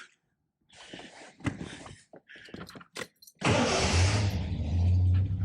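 A Triumph TR6 sports car engine cranks after some clicks and shuffling, then catches and settles into a loud, steady idle with a deep rumble.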